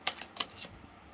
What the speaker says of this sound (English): I have to finish shuffling first before I start speaking.